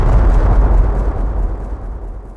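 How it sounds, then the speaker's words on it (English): A deep, booming explosion in the adventure game Secret Files Tunguska at a research station, a single loud blast with a heavy low rumble that gradually fades away. "That sounded like an explosion."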